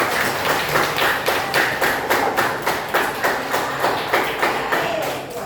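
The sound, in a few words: children clapping hands in a classroom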